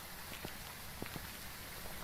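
Blood Moon Rain in the Phasmophobia video game falls as a steady, faint hiss, with a few soft scattered drop taps and no talk.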